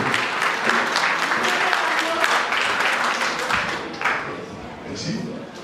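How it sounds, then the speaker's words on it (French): A congregation at a Sunday school celebration applauds its teachers with a steady, dense wash of clapping, while voices carry on over it throughout. "Applaudis moniteur, si vous fiers de vous-même, applaudis moniteur"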